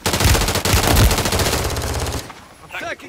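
Rapid automatic gunfire rattles loudly in the Call of Duty MW3 Resurgence battle royale mode, a dense burst that cuts off sharply and gives way to quieter game sounds and a brief voice.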